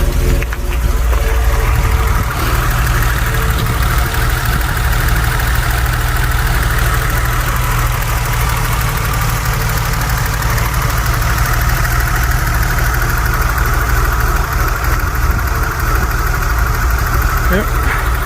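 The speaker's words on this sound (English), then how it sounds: "Just to show you now the engine running." A BMW E30 convertible project car idles steadily with a constant low engine hum heard up close, running evenly for the whole stretch.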